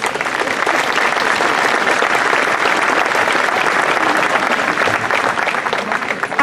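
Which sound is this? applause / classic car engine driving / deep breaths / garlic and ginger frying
applause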